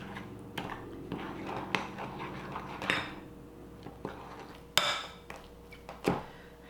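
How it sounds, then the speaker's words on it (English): A utensil stirs vegan, oil-free, gluten-free pumpkin brownie batter with cacao and flour in a bowl, giving soft scraping and occasional sharp clinks against the bowl, fairly close and without talk. "we're going to mix this all together and see what happens"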